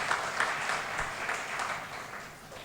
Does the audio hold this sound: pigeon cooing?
no